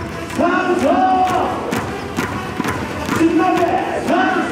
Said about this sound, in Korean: 음악이 나오면은 박수를 치면서 다 같이 외칩니다